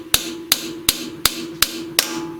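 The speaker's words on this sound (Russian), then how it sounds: "Поэтому надо воспользоваться молоточком," Six sharp hammer taps, evenly spaced, drive a valve stem oil seal into place on a car engine cylinder head, each strike ringing briefly in a quiet workshop.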